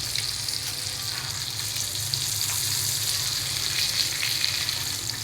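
Pomfret fish frying in oil gives a continuous, even sizzle heard close up and alone, holding at steady strength throughout.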